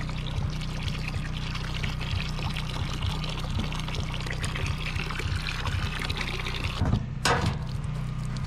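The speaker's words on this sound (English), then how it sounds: "See, that's how fast it'll siphon that there." Water siphons through a hose during a stone column and fireplace job, a steady close pour and trickle over a low pump hum, with a brief splashier burst near the end.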